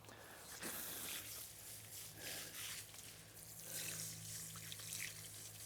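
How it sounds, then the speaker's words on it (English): Cold water runs steadily from a tap with splashing and trickling as hands are rinsed under the stream, continuous and close, with a low hum beneath. "let me rinse my hands off and I'll show you"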